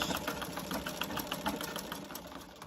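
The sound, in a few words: sewing machine stitching quilt strips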